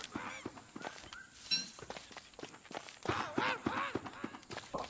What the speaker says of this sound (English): is it the parrot that's making the noise?